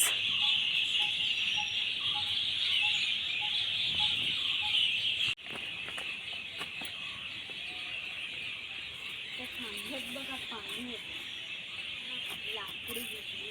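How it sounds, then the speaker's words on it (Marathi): High, continuous bird calls and chirping ring out steadily from trees and bushes, with a strong shrill insect-like hum and faint scattered background noise. "पक्ष्यांचे आवाज"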